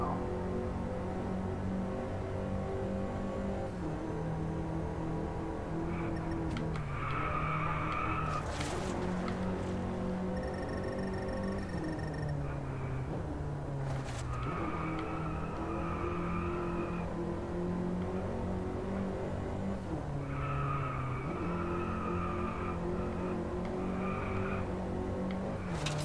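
Race car engines revving and whining through a hairpin-heavy track in the Drive Club VR racing game, with rising and falling pitch, gear shifts and brief tire squeals, loud and continuous.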